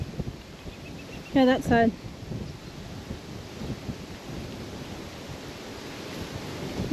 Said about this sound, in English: Now the wind picks up.